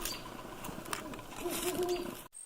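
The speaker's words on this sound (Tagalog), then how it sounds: "Great horned owl." A great horned owl gives a few soft, deep hoots in a short series, faint and somewhat distant against a quiet background before abruptly cutting off.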